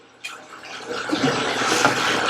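Water is poured into a pot of amla rasam, a continuous splashing rush that builds after a brief start and holds steady to the end, close and fairly loud.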